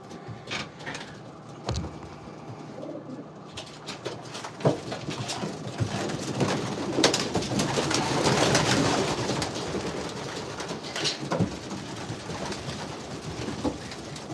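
Pigeons in a breeder loft cooing steadily and close by, with wing flutters and rustling throughout, no speech.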